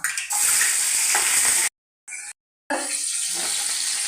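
Loud, steady sizzling of shallots frying in hot oil, briefly cut by two short gaps of silence, then resuming close up with no talking.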